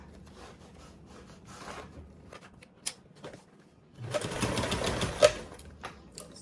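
Sewing the front panel of a bag from the bottom middle: scattered light scrapes and handling of fabric give way to a short, dense burst of machine stitching near the end, moderately close and without talk.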